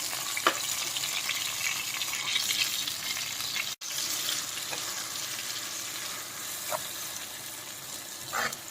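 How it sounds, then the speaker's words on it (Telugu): Onion paste fries for a Godavari-style fish curry in a clay pot, a steady close sizzle throughout with a few faint stirring scrapes and one brief cut in the sound. "ఇది కొంచెం పచ్చివాసన పోయేదాకా వేయించుకోవాలి"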